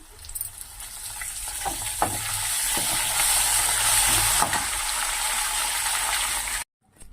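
Hot oil crackles and sizzles steadily after a few sharp pops as asafoetida and curry leaves hit the pan for tempering, the hiss cutting off abruptly near the end.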